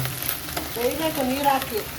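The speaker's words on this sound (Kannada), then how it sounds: "ಇಲ್ಲಿ ಚೆನ್ನಾಗಿ ಬಾಡಿಸ್ಕೊತಾ ಇದ್ದಾರೆ" Drumstick leaves sauté in a pan with a soft, steady sizzle and faint stirring scrapes, fairly quiet and close, with no talking over it.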